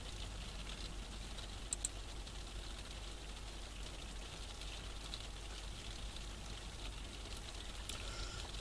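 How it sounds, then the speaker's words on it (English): Rain falling on a roof, a steady dense patter with scattered louder drips, constant and fairly faint throughout. "I can hear the rain on my roof here."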